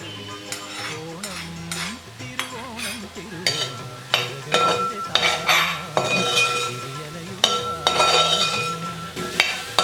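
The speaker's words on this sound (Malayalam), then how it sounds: "ആ നെയ്യ് ഇതിലേക്ക് ഒഴിച്ചിട്ട് ഇതൊന്ന് ഇളക്കി കൊടുക്കണം" A spoon scrapes and clinks against a metal pot in repeated strokes as ghee is stirred into kaalan, a thick yogurt curry, with a faint sizzle underneath and some brief muffled talk.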